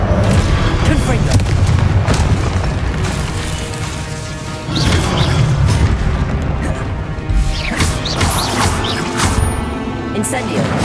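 Repeated Confringo blasting-spell explosions from the Hogwarts Legacy video game, loud booming bursts that come in several waves over game music and effects.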